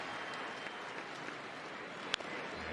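A crowd at a Braves–Twins baseball game cheers and applauds in a steady, diffuse roar that fills the whole stretch, with one brief sharp crack standing out near the end.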